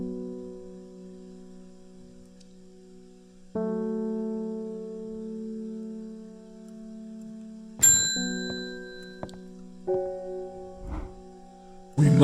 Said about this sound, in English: should I ring the bell again?